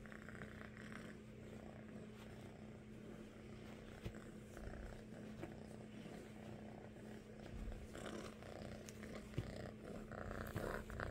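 A snuggly kitten purrs softly and continuously while climbing on a person, a faint low rhythmic rumble with light rustling and occasional small bumps, no speech.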